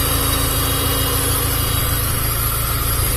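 A freshly assembled Honda Civic Genio engine, already running hot, idles loud and close in an even, continuous drone with no break.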